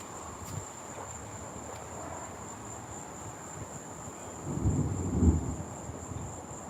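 A storm at night with a constant high cricket chirr running throughout and a low rumble of thunder swelling and fading near the end, fairly distant and without voices.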